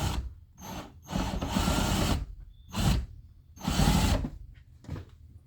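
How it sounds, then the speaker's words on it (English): An impact drill buzzes in several short, loud bursts with pauses between them, each lasting about a second, with no talking. "an impact drill"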